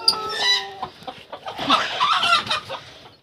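Chickens clucking and squawking with a rooster calling among them in a backyard poultry flock with a brooding hen and chicks, several loud overlapping cries close by, busier in the second half.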